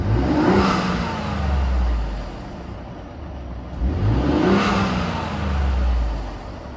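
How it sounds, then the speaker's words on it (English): A Ford F-150 EcoBoost pickup driving and accelerating, its engine swelling and falling twice in steady surges, heard loud and close with no talking. "I'm gonna give you the sound of the blow off valve makes."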